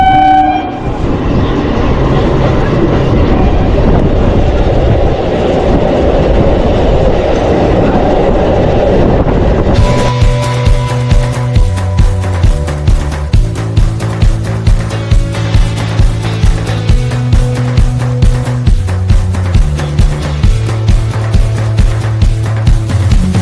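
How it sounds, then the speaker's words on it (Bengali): A local train pulls into Raniganj railway station in West Bengal. A loud, steady rumble gives way to a tonal horn-like drone, then repeated rhythmic clacks of wheels over rail joints. "আমার লোকাল ট্রেন এখন চলে আসলো রানীগঞ্জ রেলওয়ে স্টেশনে"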